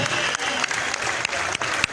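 A stadium crowd at a Sierra Leone football match between Mighty Blackpool and Wusum Stars claps in dense, sustained applause honoring a fallen national team captain, steady and loud throughout.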